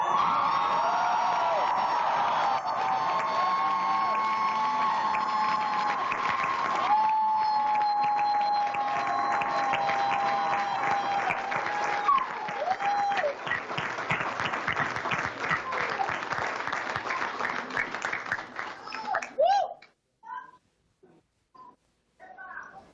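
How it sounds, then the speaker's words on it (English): Election night crowd cheering, whooping and applauding loudly and steadily for about twenty seconds, with voices mixed in, then dying away into a few scattered claps. "That crowd is very energized."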